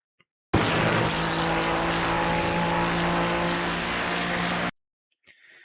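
A Ferrari GT3 race car at Road Atlanta in the iRacing sim gives a loud, steady engine drone with a strong harmonic tone that holds at near-constant pitch for about four seconds, then cuts off abruptly.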